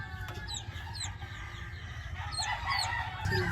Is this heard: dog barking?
no